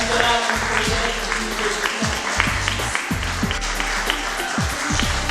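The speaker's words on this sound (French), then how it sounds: "Applaudissez." Audience applause at an entrepreneurs' café event, a dense steady wash of clapping filling the room throughout, with speech mixed in over it.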